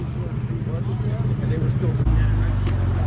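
A Cobra sports car's engine rumbles nearby and grows louder as it rolls past at a car meet, with people's voices murmuring underneath.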